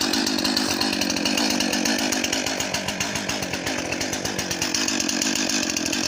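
A chainsaw roars continuously at close range, its rapid chain buzz pulsing steadily as it bites through a white pine tree in the woods, with no voices.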